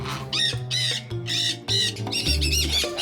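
Aviary birds squawk in harsh bursts while fighting: about half a dozen loud, close calls come in quick succession, separated by short gaps, with nobody speaking over them.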